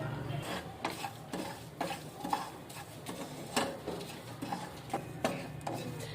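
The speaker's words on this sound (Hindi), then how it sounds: "ये तीनों चीज़ों को थोड़ा फ्राई कर लेंगे" Black pepper and whole chilies frying in a pan for a karahi, with a faint low sizzle under quiet, irregular stirring clicks and scrapes.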